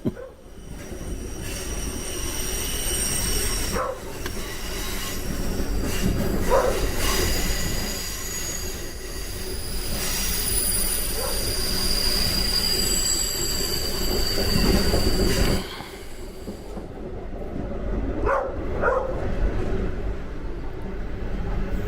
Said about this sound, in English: can get to the point where this train is coming through. Here it comes.